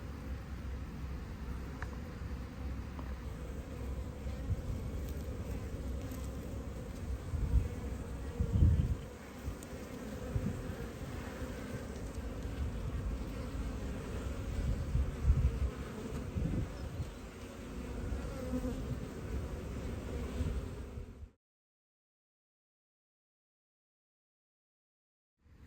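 Honeybees buzz steadily at a beehive entrance as foragers return carrying pollen, a dense continuous hum that stays loud and close for about twenty seconds before cutting to silence.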